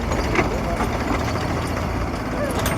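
A tractor engine idling at a village pond being dug, a steady low rumble close by with a person talking over it.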